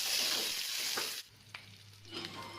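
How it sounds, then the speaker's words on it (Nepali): Onions frying in oil in a wok with garlic and chillies, a close, loud, steady sizzle that drops briefly before resuming with a few stirring scrapes. "प्याजलाई पनि हालेर मजाले भुट्नु पर्छ।"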